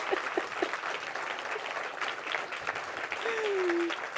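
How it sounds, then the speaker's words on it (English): Honorees at an awards ceremony receive applause from the audience, a soft, fairly distant patter of clapping that holds steady for a few seconds under faint voices. "Let's give them a round of applause"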